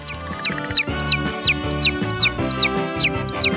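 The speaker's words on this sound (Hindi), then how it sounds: "कितना प्यारा छोटा सा चूजा, कितना मुलायम, मासूम" A small, soft chick peeps in a steady run of high, rising-then-falling cheeps, about three per second, close and clear over a low, busy background.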